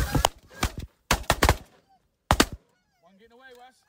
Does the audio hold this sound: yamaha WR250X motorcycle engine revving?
no